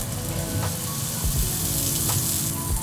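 A scallop sears in a hot pan in a restaurant kitchen, a loud continuous close sizzle with a few faint knocks under it.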